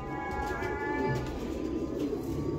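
Ferozpuri pigeon cooing close by, soft low repeated coos over a steady background hum, no speech.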